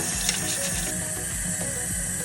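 Tap water runs and splashes while a rusty lopper is washed with soap in a sink, a steady close rushing stream with small clinks and sloshes and no talk.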